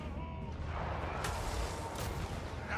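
A flashbang goes off in the video game Total War: Warhammer III amid a dense wash of battle noise, with sharp blasts and rumbling booms layered over a continuous roar.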